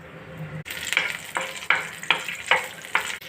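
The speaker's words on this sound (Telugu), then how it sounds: "కరివేపాకు, పచ్చిమిర్చి వేస్తున్నాను." Curry leaves and green chillies dropped into hot oil on a stove, a loud sizzle with repeated stirring scrapes in a steady rhythm, close by and without speech.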